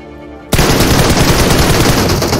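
Sustained automatic gunfire from PUBG Mobile bursts in abruptly after a quiet half-second and keeps rattling loud and dense to the end, with no voices over it.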